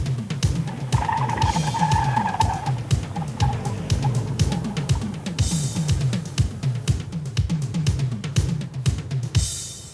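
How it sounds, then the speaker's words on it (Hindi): A Datsun GO hatchback drives along a road, its engine and tyre noise carrying a steady, loud, rhythmic rumble with thumps from the road surface and occasional wind rushes, and no talk. "और अब डैटसन गो की सवारी हमने शुरू कर दी है।"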